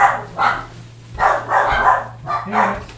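A dog barks repeatedly at people walking past, several sharp, loud barks in an uneven rhythm over a steady low hum.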